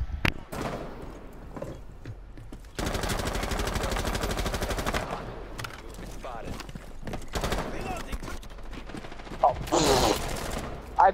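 Gunfire in Rainbow Six Siege: loud sustained automatic bursts, single shots and sharp impacts in a close, busy firefight, with scattered game sounds between bursts.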